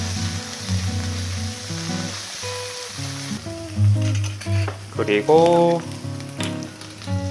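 Vegetables stir-fried with soy sauce sizzle steadily in a hot pan, with scraping and clinking of a utensil as they are tossed and mixed; a voice speaks briefly.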